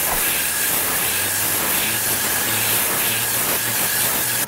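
A Tornador air cleaning tool blows compressed air onto a car headliner, producing a loud continuous hiss with a faint pulsing undertone, unbroken from start to finish and with no voices.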